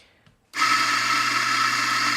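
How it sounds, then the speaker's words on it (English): A burr coffee grinder grinds 16 grams of coffee, set coarse, starting abruptly after a brief quiet moment and running as a loud, steady whirring drone to the end. "let's go ahead and grind out 16 grams"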